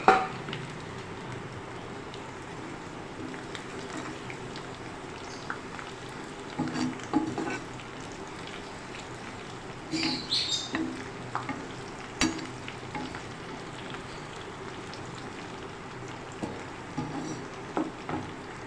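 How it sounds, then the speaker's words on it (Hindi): Curry leaves, mustard seeds, white cumin and green chillies frying in hot oil as a tadka for kadhi pakora, a steady close crackling sizzle with occasional stirring clatter and spitting bursts throughout. "अच्छा भगार फ्राई हो रहा है"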